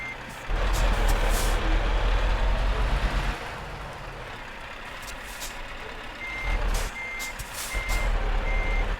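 Reversing beeps from a heavy truck in the driving game Euro Truck Simulator 2, a steady series of evenly spaced electronic tones over a continuous low diesel engine rumble, with a brief burst of hissing air brakes.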